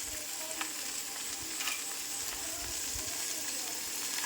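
Paneer pieces shallow frying in oil in a pan, a steady close sizzle with faint crackles and occasional clinks throughout, no talking.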